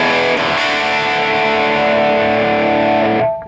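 Electric guitar played through a Fender Hot Rod Deluxe III amp with distortion, one thick sustained chord ringing loud and close for about three seconds before being cut off abruptly.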